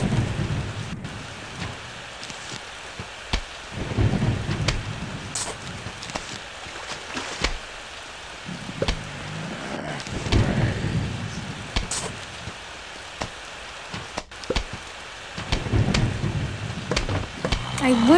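Stormy level in Plants vs. Zombies with steady rain hiss and recurring thunder-like rumbles and sharp cracks from lightning, moderately quiet, while a voice talks over it at times.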